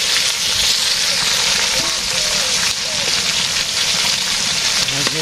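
Vegetables frying in a pan in a village kitchen give a steady, loud crackling sizzle that runs unbroken throughout, with faint background sounds and possible voices underneath.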